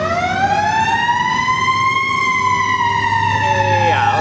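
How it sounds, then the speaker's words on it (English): Loud overlapping wail of ambulance and fire truck sirens, a steady rising-and-falling tone held nearby for a few seconds with a low engine rumble beneath. "Ambulance and fire trucks."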